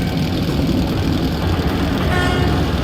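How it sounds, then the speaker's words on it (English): A train in the underground tunnels of the video game Metro: Last Light, heard as a loud, steady, heavy mechanical rumble with no break and no voices. "That's a train!"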